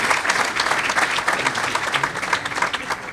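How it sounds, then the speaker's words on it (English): An audience at a high school Hall of Fame ceremony gives a round of applause, dense steady clapping filling the room throughout with no break. "round of applause for Jeannie setting this up."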